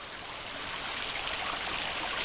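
Running snowmelt water spills over a beaver dam, a steady close hiss and gurgle that stays even for the whole short stretch with no voices.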